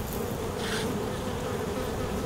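Bees buzz densely around beehives, a continuous close swarm hum that stays steady and fairly loud throughout.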